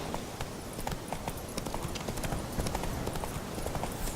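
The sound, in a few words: horse Roach trotting, from video game The Witcher 3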